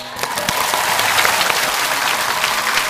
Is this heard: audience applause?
yes